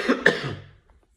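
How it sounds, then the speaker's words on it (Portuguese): A single person gives a close, harsh cough in two quick bursts that fade into a brief quiet breath. "Tô com essa tosse chata do caralho."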